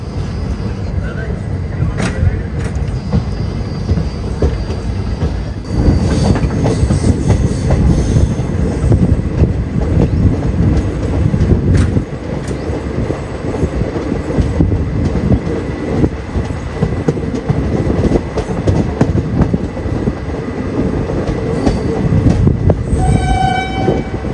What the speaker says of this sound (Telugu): ఏదేమైనా ఎల్హెచ్బి కన్నా ఈ ఐసెఫ్ కోచెస్ నుంచి వచ్చే సౌండ్ భలే ఉంటది.